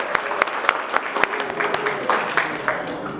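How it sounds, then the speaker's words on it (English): Crowd applause at a reception honoring the Port of Long Beach, a moderate spread of hand claps with a few sharper individual claps standing out and faint voices beneath. "Let's give the Port a big round of applause."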